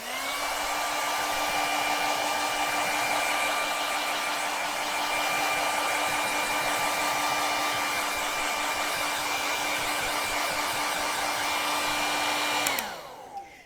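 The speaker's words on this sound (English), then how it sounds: "Let me hair dry this." A hair dryer runs steadily, close and loud, drying acrylic paint, with a constant whirring tone for about thirteen seconds before it switches off and winds down.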